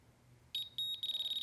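Diamond tester sounding its alarm after touching metal during gold testing: a high, steady electronic tone that starts abruptly, breaks briefly, then returns as a rapid pulsing beep, close and clear with no talk.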